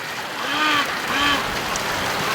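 Breeding ducks out in the yard during a rainstorm give two or three nasal quacks close by, set against a steady wash of falling rain.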